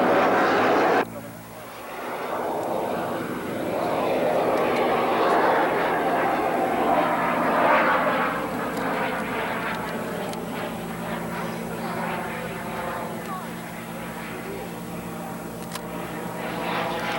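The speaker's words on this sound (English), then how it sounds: "his BD-5 microjet, the world's smallest jet aircraft" A BD-5 microjet, a tiny single-seat jet, flying at an outdoor air show: a sustained whining jet roar that swells and fades as it passes, with a commentator talking over it.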